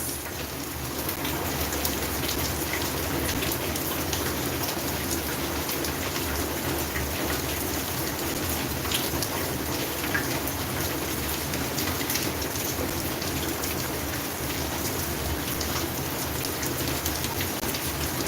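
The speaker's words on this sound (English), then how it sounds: "we've been experiencing heavy rains for the past 2 weeks." Heavy rain pouring steadily onto a flooded veranda garden, a dense constant hiss of drops on surfaces with no letup and no voices.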